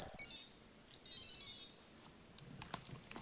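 Faint electronic beeps and warbling tones come and go in short bursts from a small device, with soft rustling between them.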